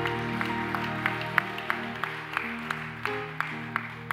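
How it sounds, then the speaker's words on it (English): A congregation at a Sunday church service claps in sharp, regular beats over sustained organ or keyboard chords, the hand claps cutting through the music at a steady rhythm. "Give God a mighty hand clap."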